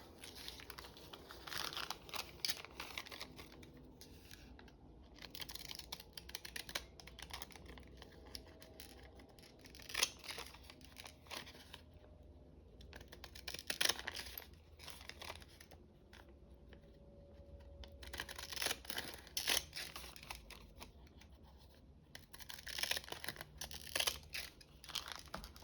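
Scissors snip out a paper stamp shape in a quiet room, a run of close, crisp cuts and soft paper crinkles repeating in bursts, no talking.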